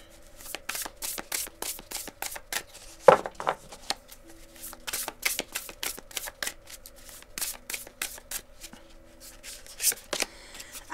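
Tarot cards are shuffled by hand for a reading, producing a close, steady series of quick riffling bursts at a regular rhythm.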